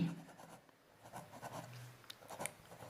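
A pen scratches across paper in short irregular strokes as a phrase is written out, quiet and close, with faint background sounds.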